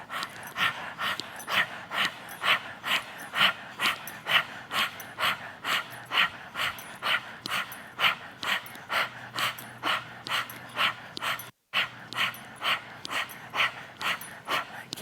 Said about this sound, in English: just stick out your tongue and keep breathing